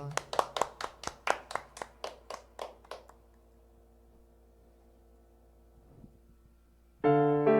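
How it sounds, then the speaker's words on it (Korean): A congregation claps in rhythm during an Easter church service, a dozen or so sharp, evenly spaced claps in unison over about three seconds, then quiet hum before music swells in. "거하신 예수님께 박수로 영광 올려드립시다"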